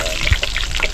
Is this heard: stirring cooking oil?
yes